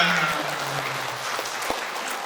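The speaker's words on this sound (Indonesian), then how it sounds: "Tepuk tangan buat kita semua" A church congregation at a year-end thanksgiving Mass claps together, a steady wash of applause running through the whole stretch with faint voices mixed in.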